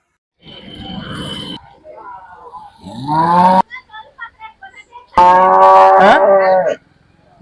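Cows moo at the Alamanda cattle market, a large open-air cow fair in the Telugu states: two long, loud, close bellowing moos with a quieter grunting stretch between them, while people talk nearby.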